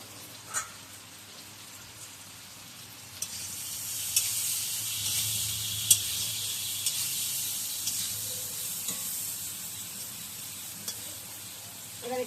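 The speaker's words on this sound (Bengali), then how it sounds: "ভাজা ভাজা হতে থাকে" Kachki fish frying in a pan with salt and turmeric, a close, steady sizzling hiss that swells after a few seconds and carries on, with occasional sharp pops and stirring clicks.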